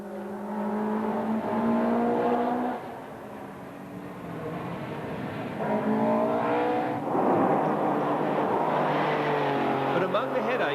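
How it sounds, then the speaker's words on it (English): A Porsche rally car spins on the second stage of the London to Sydney Marathon Rally 2000, its engine revving up and down in loud surges with passing-car sweeps and some tyre noise. "The Bates Britain Porsche is one of many to spin on the second stage."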